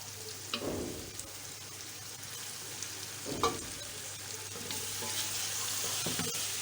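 A kilogram of chopped tomatoes fries in a pot of Sindhi biryani masala with green chillies, giving a faint steady sizzle and a few soft stirring scrapes.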